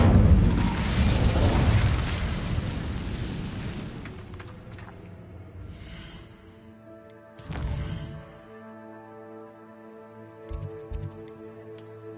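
Incendio fire spell cast in Hogwarts Legacy, a loud roaring blast that fades over several seconds, followed by a second burst and faint chimes over a musical backdrop.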